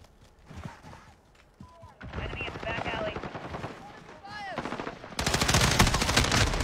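Rapid automatic gunfire from a video game shooter set on Alcatraz, bursts building to a loud sustained stream near the end, with brief game sound effects between.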